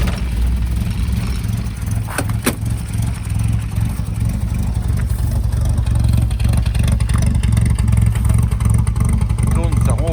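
An Austin Healey 100/4 Le Mans engine runs at a steady, close idle, giving a continuous low rumble that holds unchanged for about ten seconds.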